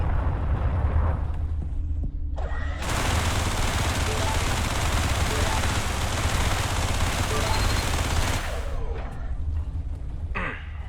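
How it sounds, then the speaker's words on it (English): Sustained loud weapon fire from a spacecraft blasting a mineable asteroid for fuel in the space game Everspace, a dense continuous roar of shots lasting several seconds between quieter ambient stretches, with no talk. "There is a mineable asteroid nearby. Shoot at it to extract fuel."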